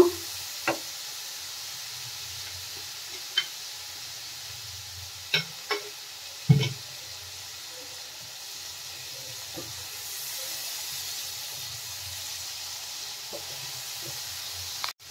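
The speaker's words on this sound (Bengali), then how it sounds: "সামান্য জল দিয়ে একটু কষিয়ে নেব।" Spices with a splash of water cook in a pan for Bengali green pea ghugni, giving a soft, steady hiss and sizzle punctuated by a few sharp knocks of a utensil against the pan.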